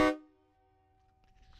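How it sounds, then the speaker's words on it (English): A truck's air horn gives one loud, close blast that rings with a strong steady tone and fades quickly. Faint background noise follows. "Let's give it a honk."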